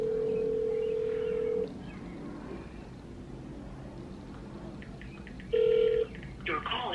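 A phone call rings out with a steady ringback tone: one long ring, a quiet pause, then a second ring starting before the end, heard close and clear.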